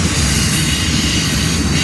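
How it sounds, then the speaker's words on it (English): A double-stack freight train rolls into a rail yard in Toledo at night, a loud continuous rumble of wheels and cars passing close by with no talk over it. "There's a stack train just pulling in."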